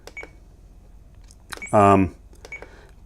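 A FrSky Taranis radio transmitter gives one loud, steady electronic beep lasting about a third of a second, surrounded by a few soft button clicks, with a voice briefly heard.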